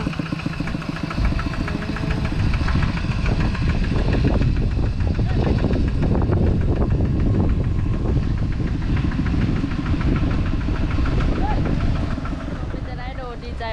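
A tractor engine runs steadily and loudly close by on a farm, a continuous mid-pitched rumbling drone that holds for the whole stretch with a faint mechanical rattle.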